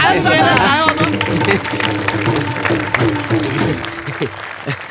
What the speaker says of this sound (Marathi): पोरं टाळ्या द्यायला काय होतं?